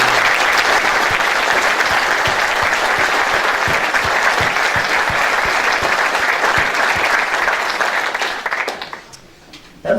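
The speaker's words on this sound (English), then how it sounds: "Give her a round of applause." Sustained applause from an audience at a city State of the City presentation in Edmonds, dense steady clapping for about eight seconds before fading out near the end.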